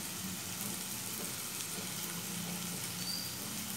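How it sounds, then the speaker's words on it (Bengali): Spices and tomatoes for a pomfret curry with mustard and poppy seed sizzle in a pan, a steady dense frying hiss with soft stirring underneath, close and even, with no talking. "এবারে ভালো করে আমি সব কিছুকে একটু কষিয়ে নেবো"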